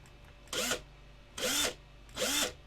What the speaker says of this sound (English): Make sure that our drill is not slipping on the resin.